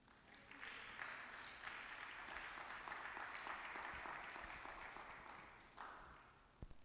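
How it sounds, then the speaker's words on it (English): Audience applause after a founder's closing address at a summit, a steady wash of many hands clapping that swells, holds for several seconds and tapers near the end. "Let's give him a round of applause one more time."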